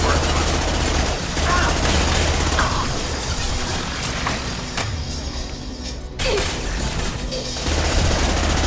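Dense gunfire in Mass Effect 2 combat, loud sustained bursts and impacts nearly continuous with a brief dip, voices likely mixed in.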